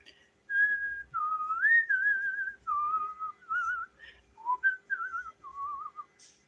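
A person whistles a wandering melody in a string of short phrases, clear and close, with brief pauses between them and no talking.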